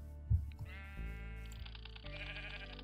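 A sheep in Minecraft bleats in a couple of drawn-out, wavering calls, close and clear over a low game background with no talking.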